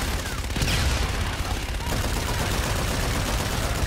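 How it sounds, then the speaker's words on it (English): Aircraft cannon fire during a strafing run in the Infinite Warfare video game: a dense, continuous roar of rapid gunfire and booming impacts that holds steady and loud throughout. "Roger, inbound for gun run. Guns, guns, guns."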